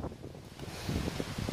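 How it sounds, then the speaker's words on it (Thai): Strong wind blows outdoors on a mountain trail, a rough, buffeting rumble with gusts rising toward the end, alone with no voices. "ลมแรงเหลือเกินค่ะ"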